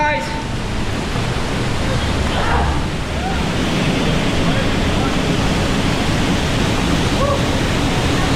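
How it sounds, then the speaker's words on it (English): Rushing water roars steadily and loudly inside a cave, a dense, unbroken wash of noise that fills the whole clip with no letup, like a strong current surging close by. "the force of the water and the pressure pushing you was pretty strong"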